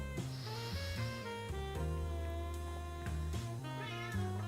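A cat meows continuously and insistently up close, a series of drawn-out, wavering cries with shifting pitch, loud and alone.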